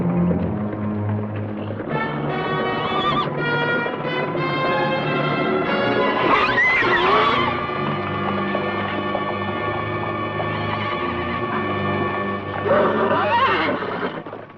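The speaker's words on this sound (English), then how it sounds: "These horses are the property of General Castro." Several horses neigh and whinny loudly and repeatedly as they are driven out of a corral in California, with a shrill whinny rising near the middle and another toward the end over a continuous, busy background.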